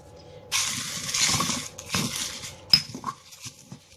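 Herbs and spices for homemade incense ground by hand in the traditional way, giving close scraping and crunching strokes with a few sharp knocks, alone and fairly quiet.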